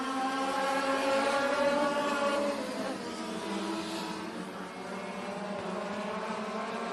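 Dirt track race cars in a heat race at Benton County Speedway roar through turns 3 and 4, a sustained distant engine drone that rises and then eases slightly, with no talk over it.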